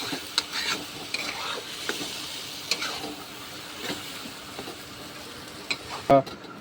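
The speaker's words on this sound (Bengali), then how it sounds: "এবার এটাকে ওপাশ ওপাশ ভালো করে একটু নাড়াচাড়া করে দিয়ে অল্প আঁচে রেখে দেবো" Taro leaves cooked with a hilsa fish head sizzle in a frying pan as a spoon stirs them, giving irregular scraping clicks over a soft, steady frying hiss, with a sharper clatter near the end.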